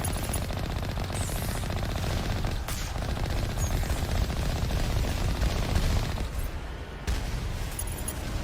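Sustained rapid gunfire fills a Mass Effect Legendary Edition battle against turrets, dense automatic bursts continuing loudly throughout with occasional heavier booms and no voices.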